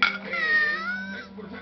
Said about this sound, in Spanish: Oh, ese gatito está con hambre.